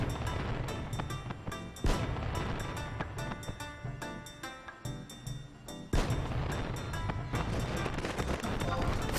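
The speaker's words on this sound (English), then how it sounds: "Those are the sounds of fireworks off in the distance" Distant fireworks in the Final Fantasy XI game zone, heard as dull, repeated booms under a constant bed of background music, with a few sharper thumps spaced across the stretch.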